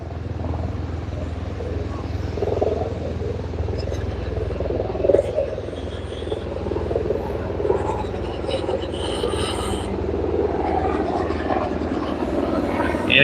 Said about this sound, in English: we have a helicopter going over